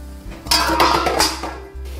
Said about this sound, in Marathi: आपण गरम पाणी सोडून टाकू मध्ये.